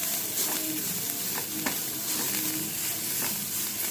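Fresh coriander leaves sauté in a pan for a chutney, giving a steady close sizzle with soft scraping stir strokes and occasional light spatula taps throughout, with no talking.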